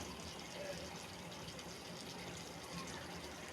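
Broth is poured into a simmering cucumber and shrimp curry with green chilies, a soft steady liquid splash and trickle lasting a few seconds, faint and close.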